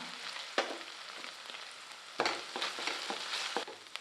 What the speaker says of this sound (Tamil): ரெண்டு டீஸ்பூன் இஞ்சி பூண்டு விழுது பச்சைவாடை போகிற அளவுக்கு நல்லா வதக்கி விட்டுக்கலாம்